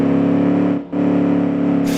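Car engine failing in BeamNG, a loud steady droning engine tone that briefly cuts out and drops before resuming its buzzing hum, with a sharp hiss rising at the end, no talking.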